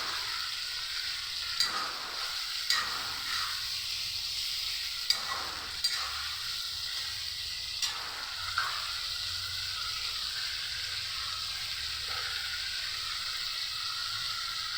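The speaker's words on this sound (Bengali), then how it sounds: "এখন এই মশলাটাকে সাজনা আলুর সাথে ভালো করে কষিয়ে নেব।" Spice paste of onion, ginger, green chilli, chilli powder, coriander and cumin frying with drumsticks, potatoes and tomatoes in a pan, a constant close sizzle broken by several sharp scrapes and clinks of stirring, with no voices.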